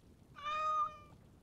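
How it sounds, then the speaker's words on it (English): A cat meows once in the video game Dragon Age Origins Awakening, a single clear, fairly quiet harmonic meow of about half a second over a faint background. "Did Nathaniel just meow?"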